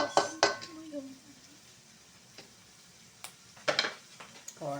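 Garlic and onions sautéing in a pan while cooking chicken kaldereta, with a soft, low sizzle beneath sharp metallic clanks and scrapes of a utensil against cookware, arriving in short bursts between quieter stretches.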